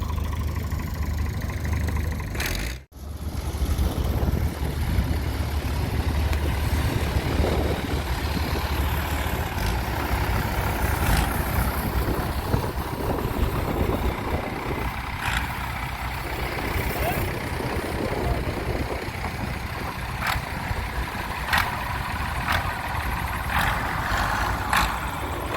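Vintage tractor engines idle at a steam fair, a continuous low mechanical rumble with occasional clanks and outdoor crowd noise, dipping briefly near the start and carrying on steadily for the rest.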